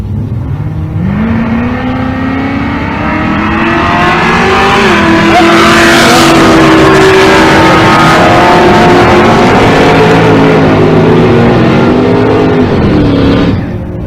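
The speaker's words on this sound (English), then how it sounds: "Fifth-gen Camaro in the right lane" A fifth-generation Chevrolet Camaro drag racing at Pueblo, Colorado blasts off the line with a loud, close V8 roar, revs climbing through several gear shifts before the engine note cuts off at the end.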